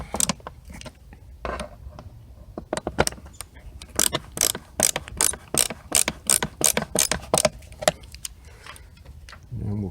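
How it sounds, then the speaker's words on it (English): A ratchet clicks in fast, rhythmic runs while tightening screws on the air filter box of a 2016 Chevy Cruze 1.4L turbo, close and crisp, alone without talk. "Just gonna tighten up these last screws"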